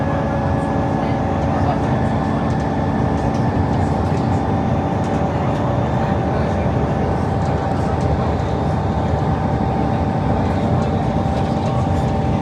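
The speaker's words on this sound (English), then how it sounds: "here we are passing one of the very few southwestern services heading towards London Waterloo" A South Western Railway train bound for London Waterloo via Salisbury passes near Bruton, Somerset, heard from inside a bus. A loud, steady rumble with sustained humming tones carries on for the whole stretch, blending with the bus's own noise.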